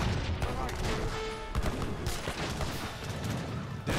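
Grenade launcher fire in the Age of Empires 3 strategy game, with a rapid, dense run of overlapping shots and booms amid battle noise, moderately loud and continuous throughout.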